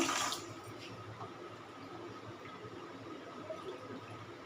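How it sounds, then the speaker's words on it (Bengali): Water being poured from a measuring bowl into a pot to make sugar syrup, a steady close wash of splashing liquid that starts with a brief louder gush and continues evenly without talk. "তাহলে এবারে জল দিয়ে দিচ্ছি আমি মাপ করে এক বাটি"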